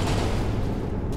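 Portal gun firing in the Portal 2 co-op game: a dense, loud burst of broadband blast noise that fills the whole short moment without a break, with no voices over it.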